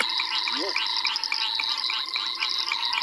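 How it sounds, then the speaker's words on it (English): A knocking sand frog calls outdoors at sunrise with rapid, repeated knocking clicks, like rapping on a door, over a dense background chorus of other frogs and insects. "that's a knocking sand frog"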